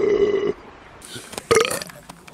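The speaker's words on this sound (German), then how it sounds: "diese ganze Furzerei und Rülpserei ständig" Two loud, close burps come from a person at an outdoor campfire gathering with beer, the first drawn out for half a second and the second after a short pause, with some breathy noise between.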